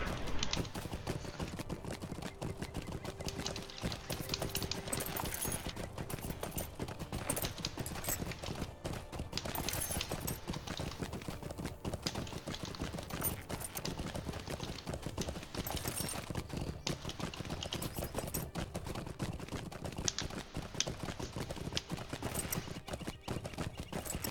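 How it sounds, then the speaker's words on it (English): Horse hooves clip-clop steadily in the Lord of the Rings Online video game, a faint, continuous trotting rhythm lasting throughout with no talking over it. "clop, clip, clop."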